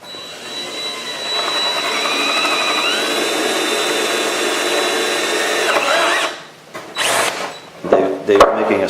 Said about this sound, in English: making a starter hole there for the jigsaw using a drill